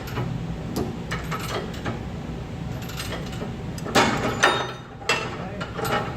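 A manually operated, non-hydraulic machine ratchets as it is worked by hand, giving repeated clicking pawl strokes in an irregular rhythm with heavier clunks around the middle, close and fairly loud.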